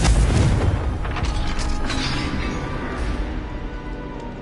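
A Confringo fire spell explodes in the Hogwarts Legacy video game, a loud, heavy boom that hits at once and then rolls into a long rumbling tail of debris and echo.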